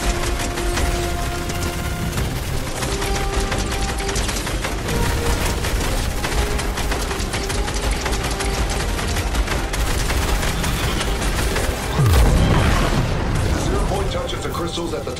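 Gunfire and explosions rage through a Fortnite live event, with sustained booming bursts, rattling shots and a loud blast near the end. Voices talk over the dense, loud battle din.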